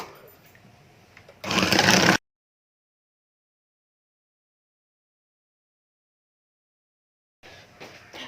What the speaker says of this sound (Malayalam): പക്ഷെ ഞാനിവിടെ യൂസ് ചെയ്യുന്നത് ഇലക്ട്രിക് ബീറ്ററാണ്.